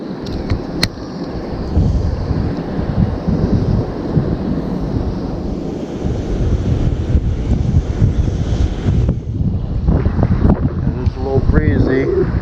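Steady wind gusting across the microphone at a city park beside the water, a loud continuous rumble and hiss with brief voices and movement near the end.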